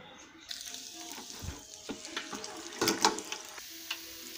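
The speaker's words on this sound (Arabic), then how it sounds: "اللوز ديالي من بعد ما سلقته نقيته ومسحته غادي نديرو نقليه" Blanched almonds fry in oil, sizzling softly with scattered crackles and a brief louder burst of spattering midway, close by, with no talking.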